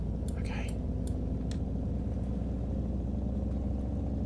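A 1986 Ford F350 truck in a driving game pulls away, its engine a steady low drone that holds evenly throughout, with a few faint clicks near the start.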